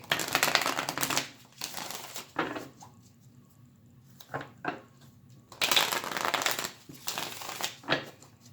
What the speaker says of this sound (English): So I'm just going to shuffle here.